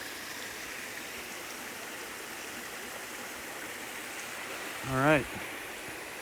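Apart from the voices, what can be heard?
clear water of a forest stream flowing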